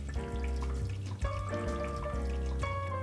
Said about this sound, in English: add water to it right away